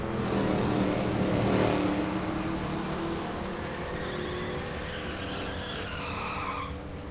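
At a drag strip bracket final, a 2001 Camaro and a Mustang race, engines roaring loudly with tire screech and a sustained, fading mechanical howl down the track.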